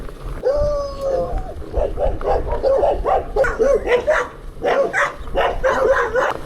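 Several caged dogs bark at a farmstead along the Southern Upland Way in Scotland, giving a continuous run of overlapping yaps and woofs at moderate distance, with a whine at the start.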